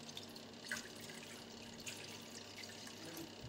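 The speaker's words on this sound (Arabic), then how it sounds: "ندير الكيسان تاع الماء" Tap water running and splashing into a pot on a home kitchen stove while spicy tomato-egg dish is prepared, a steady soft flow with faint drips, fairly quiet and without talk.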